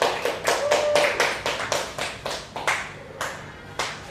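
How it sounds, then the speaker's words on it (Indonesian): Classroom clapping for a student group during a science lesson, about a dozen distinct claps in a loose, uneven rhythm, fairly close and clear with no talk over them. "berikan tepuk tangan kepada kelompok 2"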